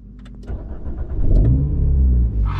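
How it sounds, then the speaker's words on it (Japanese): An Alpine A110 sports car engine cranks briefly and fires up, settling into a loud, deep rumbling idle close by. "それでは、エンジンスタートしてみましょう。"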